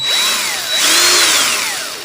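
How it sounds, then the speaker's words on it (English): A power drill spins forward, winding a wire coil, its motor whine loud and close, rising and falling in pitch over a couple of seconds before ending in a small click. "My drill's in the clockwise motion"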